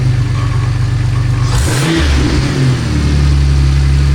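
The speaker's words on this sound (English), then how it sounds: "Give it a little rev." A car engine with newly changed rocker arms and valve springs idles with a low steady rumble, then revs up sharply once before settling back into a smooth idle, close and loud.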